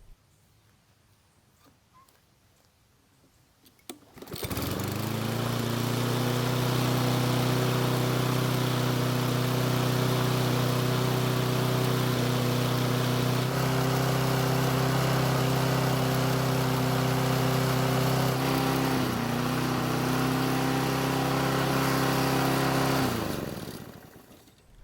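A Toro lawn mower engine that was hard to start fires up after a few seconds and runs loud and steady-droning with a slightly uneven, wavering pitch near the microphone, then cuts off at the end.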